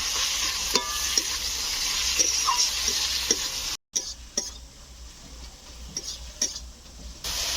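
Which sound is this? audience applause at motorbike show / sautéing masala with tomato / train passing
sautéing masala with tomato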